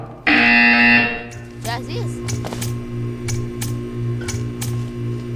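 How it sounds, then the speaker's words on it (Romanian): A loud harsh electronic buzzer in Portal 2 blares for about a second, then stops, followed by clicks and background electronic tones. "When you hear the buzzer, stare at the art."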